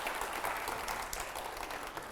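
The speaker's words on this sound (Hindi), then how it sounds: "जोरदार तालियां हो पहले" Brief, fairly faint burst of audience applause in a television debate studio, an even wash of clapping that holds steady for about two seconds with no speech.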